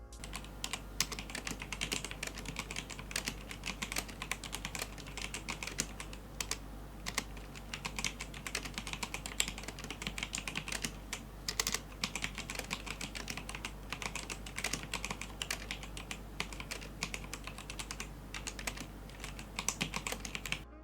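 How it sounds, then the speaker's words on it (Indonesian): Steady, quiet typing on a Rexus Legionare MX9 keyboard fitted with silent red switches, soft muted keystrokes pattering in a continuous rhythm without clicks. "Berikut adalah bunyi switch dari keyboard ini."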